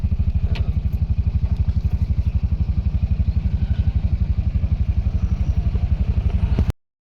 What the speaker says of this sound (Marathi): बघा आता भरपूर गाड्यांना भरपूर गर्दी